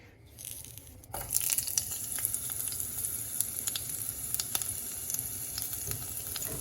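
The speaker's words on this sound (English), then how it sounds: "We let it sizzle a bit." Loud sizzling of garlic and chili in a hot pan starts abruptly after a second of quiet, then crackles and pops steadily at close range.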